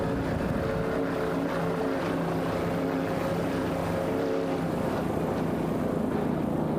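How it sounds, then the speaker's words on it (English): A 29-foot Fountain powerboat with a 500 hp Mercury engine races in a Factory 1 class offshore event, its steady, loud engine roar droning on without a break throughout. "a 29-foot fountain in Factory 1 class. Mercury-powered 500 horsepower engine."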